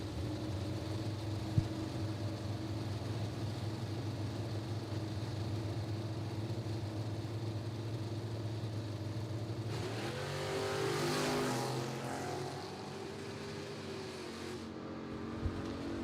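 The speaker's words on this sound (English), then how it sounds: "Daniel Daughtry left side. The man behind Funny Bone Embroidery, dialed 703. Take on Tony Schwab. Schwab in the Roadster" Idling drag cars at a footbrake race rumble and burble steadily until, partway through, both launch with a loud rising roar that sweeps away into the distance.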